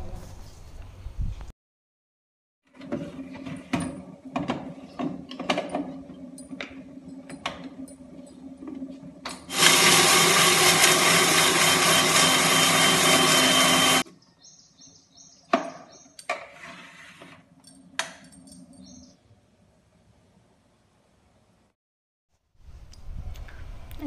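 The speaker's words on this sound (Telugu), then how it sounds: "ధనియాల పొడి కూడా అయిపోయింది. ఇంకా అది కూడా చేసుకుందాం అనేసి ఇక్కడ మిక్సీకి వేసుకుంటున్నా." A mixer grinder pulverises coriander seeds into powder in one loud, steady whirring burst of about four and a half seconds, with scattered kitchen clatter and knocks before and after.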